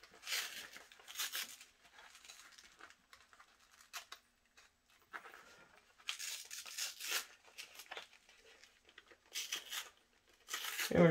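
PU faux leather material crinkling and rustling in bursts as it is worked around and fitted onto an Oculus Quest 2 headset build, close and crisp with quiet gaps between handling.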